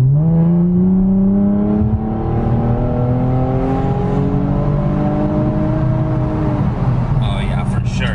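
An Infiniti Q60 at full throttle, its engine note climbing steadily in pitch for several seconds from a close in-car position, loud and continuous, with a brief hiss near the end.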